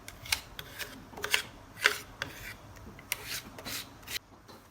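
Lightly dragging a rag or scraper across dissolving brown tinted varnish on an old Jacobean chair, a run of soft rasping rubs and scrapes with irregular strokes, close and fairly quiet, no talking.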